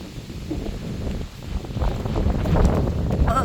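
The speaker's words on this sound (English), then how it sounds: "Oh, that's windy." Outdoor wind buffets a microphone during a Starlink dish installation, a low rumbling gust that swells and grows stronger toward the end.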